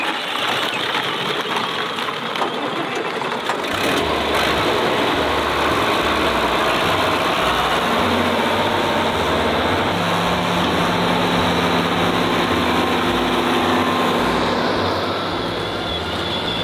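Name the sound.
farm tractor engine idling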